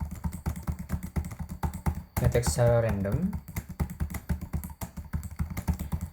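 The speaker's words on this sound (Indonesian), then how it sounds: "Ketika kita mengetik" Rapid, steady clicking of a computer keyboard as someone types text in the Vim editor, close and crisp, briefly interrupted by someone speaking before the keystrokes resume.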